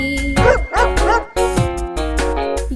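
A sung Tamil children's rhyme about a puppy with loud, clear bow-wow barks in a bouncy rhythm over musical backing, repeated several times in close succession.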